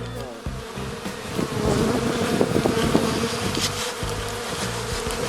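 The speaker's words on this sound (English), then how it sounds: "a fair amount of bees out here." Honey bees buzz steadily at a hive entrance outdoors in winter, the entrance blocked after an oxalic acid treatment; a dense, continuous close drone of many insects swells slightly midway and holds throughout.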